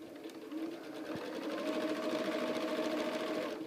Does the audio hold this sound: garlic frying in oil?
no